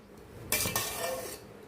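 A metal spoon clinks and scrapes against a pot while tamarind rice is mixed for a temple offering, two quick clanks followed by a brief soft scraping stir, close and fairly quiet.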